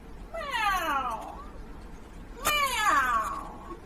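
A cat meows twice, each a clear, drawn-out falling cry, the second one louder and rising before it fades, with no talk over it.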